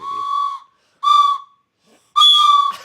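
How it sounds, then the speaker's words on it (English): A toy choo-choo train whistle, a birthday party favor, is blown three times in short, loud, steady toots with brief pauses between them, heard alone with no talking. "Co-host is very excited about the choo-choo train whistle she just got from."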